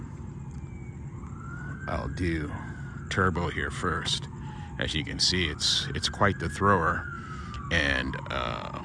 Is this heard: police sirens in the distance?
yes